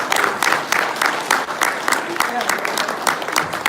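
A convention panel audience claps in a brief round of applause, bursts of hand claps repeating through the stretch at moderate volume, mixed with some voices.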